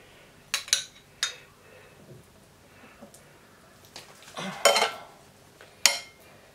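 A spoon spreads miso marinade over beef fillet steaks for Japanese-style grilled beef, giving a few scattered clinks and scrapes against a dish, with short bursts between quiet pauses.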